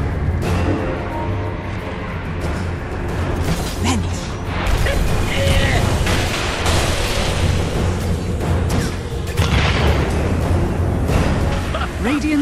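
Dota 2 match audio with game explosions and impact booms from towers under attack, layered over continuous mechanical battle noise and busy effects; loud and dense throughout, with no speech.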